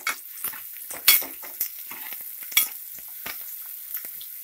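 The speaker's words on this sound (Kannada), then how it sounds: "ಈರುಳ್ಳಿ ಕಲರ್ ಚೇಂಜ್ ಆಗಬೇಕು ಗೋಲ್ಡನ್ ಕಲರ್ ಬರಬೇಕು ಅಲ್ಲಿಗಂಟ ಫ್ರೈ ಮಾಡ್ಕೊಬೇಕು" Chopped onion and green chilli frying in a pan for a spicy chicken gravy, a faint sizzle broken by sharp clinks and scrapes of a spatula stirring, with no speech.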